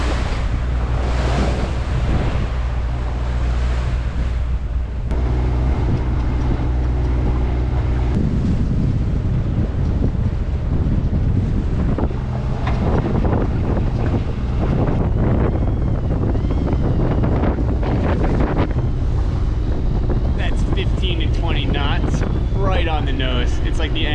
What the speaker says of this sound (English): we are motoring into some wind chop